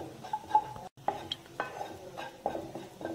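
Gram flour (besan) being lightly roasted in a pan, stirred with a spoon in a series of soft scraping and clinking strokes over a faint, steady sizzle, close by, with no talking.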